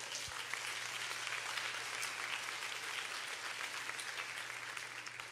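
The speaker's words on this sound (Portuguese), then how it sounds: "Pode dar um aplauso ao Senhor" Sustained applause from a church congregation fills the whole stretch, a steady dense wash of clapping at even loudness with no talk over it.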